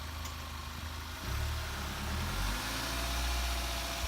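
A BMW engine idles with a steady, low, close rumble at a car meet in a parking lot. The rumble swells slightly partway through and carries no talk.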